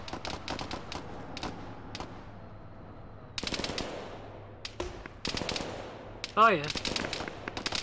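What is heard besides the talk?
gunfire in a military video game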